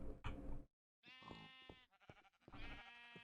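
Sheep bleating in a Minecraft-style video game at a savanna base, a few harmonic wavering bleats close by, split by a brief silent gap, with no talk.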